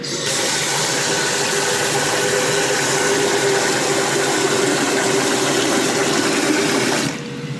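Water runs steadily from a tap into a pot of rice being washed, with a constant rushing splash for several seconds, then cuts off abruptly near the end.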